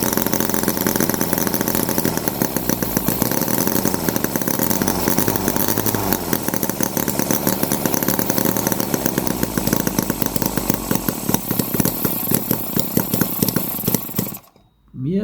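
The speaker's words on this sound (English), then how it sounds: "I think it's running too rich. I can smell petrol. It's not running on all cylinders." A Microcosm H75 model engine runs rich and uneven, not firing on all cylinders, with a loud, steady, buzzy chatter close by that cuts out abruptly just before the end.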